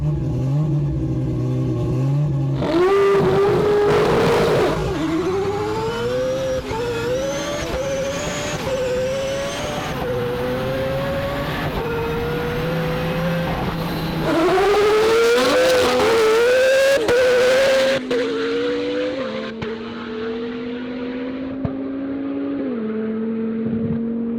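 An all-wheel-drive four-rotor rotary-engine car launches hard, its engine screaming up through the revs in rising, shifting sweeps while the tires squeal, loud and close, backing off and climbing again in a second run.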